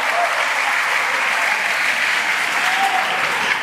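Sustained, loud applause from an audience at a pesantren gathering, dense clapping that stays steady throughout with no speech over it.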